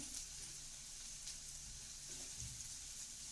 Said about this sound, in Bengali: আলুগুলো কিন্তু প্রায় আমার ভাজা হয়ে গেছে, আর আমি দুটো চামচের সাহায্যে এটাকে উল্টিয়ে দিয়েছি।